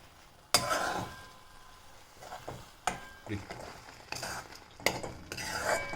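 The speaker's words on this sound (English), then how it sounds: "So I'm just going to give it a quick stir." A low-fat almond malai paneer gravy is given a quick stir in a pan, with a spoon clinking and scraping against the metal in several short bursts over a soft sizzle, heard close.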